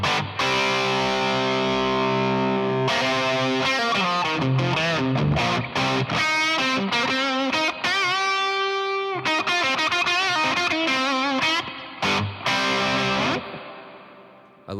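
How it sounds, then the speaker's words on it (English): Electric guitar played through a Boss Blues Driver overdrive pedal, loud and continuous with sustained distorted chords and single-note runs, a few brief pauses between phrases. "Let's hear just the overdrive."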